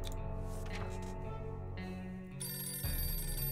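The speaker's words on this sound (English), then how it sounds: "Phone's ringing." Telephone ringing in the survival video game 60 Seconds, a steady electronic ring over game music, moderately loud and unbroken, with no talking.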